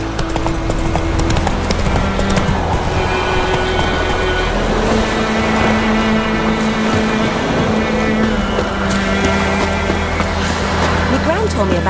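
Horse hooves gallop in a steady, continuous clip-clop in The Witcher 3, loud and close, with a rumbling low layer and game voices talking over them.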